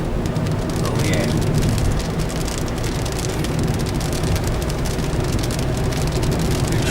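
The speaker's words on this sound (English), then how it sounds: "it's rain that we are driving into" Rain drums steadily on a moving car approaching hills near Sarajevo, a dense unbroken patter mixed with road and engine rumble that stays loud and even throughout.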